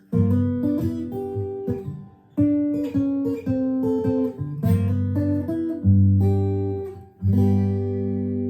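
A plucked Martin M21 acoustic guitar with an LR Baggs HiFi pickup plays a short melodic fill of single notes and ringing chords, clear and close with no voices.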